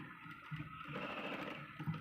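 A sewing machine stitches a sleeve, its needle running in a quick, steady rattling rhythm, quiet and close, with no talking.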